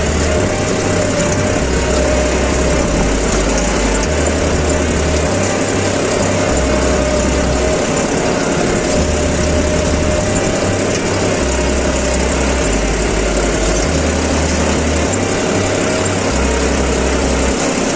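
John Deere 5310 CRDi 4x4 tractor engine pulling a cultivator across a farm field, a loud, constant diesel drone with a low rhythmic pulsing throb, alone without talk.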